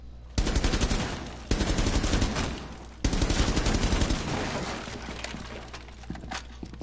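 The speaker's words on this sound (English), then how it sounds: "Not in the middle of gunfire." Automatic gunfire in the Rainbow Six video game, with three loud bursts of rapid shots, each followed by a trailing stretch of scattered shots and clatter.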